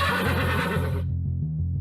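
A zombie horse in an animated story gives a loud, close whinny that runs for about a second, then drops away, leaving low background tones.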